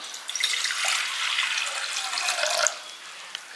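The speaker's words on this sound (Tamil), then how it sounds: "ஒரு பாத்திரத்தை வச்சு ஒரு 3 டம்ளர் தண்ணி விட்டுக்கலாம்" Water running from a tap into a cooking pot set on the stove, about three tumblers poured to make a turmeric and pepper herbal tea; a steady close splashing flow that stops near the end.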